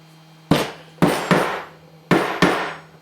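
A hammer strikes a plywood sheet table five times in an irregular rhythm, each blow a loud, sharp knock that rings briefly before fading, over a quiet low hum.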